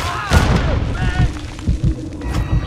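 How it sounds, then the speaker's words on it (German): Incendiary grenade bursts in Call of Duty: Modern Warfare 2 multiplayer land as a deep, close boom followed by further thuds and crackling fire, with game voices talking over the blasts. "Brandgranate!"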